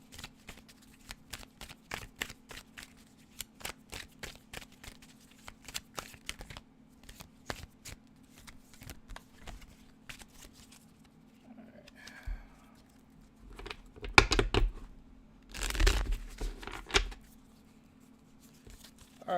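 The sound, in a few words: shuffling a deck of tarot cards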